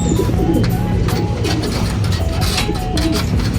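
Racing pigeons coo together inside a loft after a summer derby race, with a dense, continuous chorus of close, throaty, rolling coos over a busy background.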